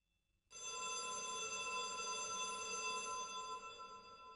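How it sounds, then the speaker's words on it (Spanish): A telephone rings steadily in a newsroom, a continuous electronic trill that starts abruptly after a brief silence and holds loud and unbroken for about four seconds. "Una tarde de mayo el teléfono sonaba en la redacción de el medio El Confidencial."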